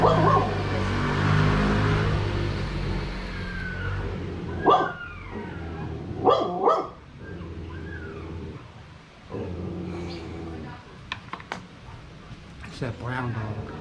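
A brown dog gives a few sharp barks and yips at a moderate distance, set against a low background rumble and with people talking nearby.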